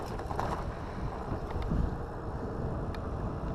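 Steady broadband wind roar buffets the microphone of an Aventon Adventure e-bike riding into a headwind at speed, continuous and loud with no voices.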